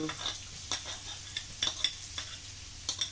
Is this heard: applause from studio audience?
no